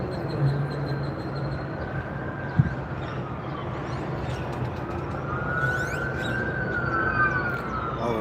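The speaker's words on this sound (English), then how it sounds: "All those sirens." Police sirens wail and rise and fall in the distance over steady traffic rumble, with one brief thump partway through.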